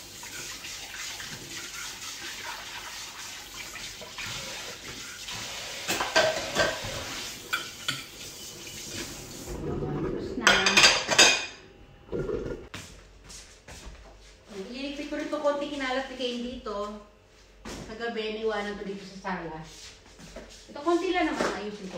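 Running water and dish clatter from washing plates in a kitchen sink, a steady wash of water noise with a brief louder splash, then giving way to someone talking over faint background sound.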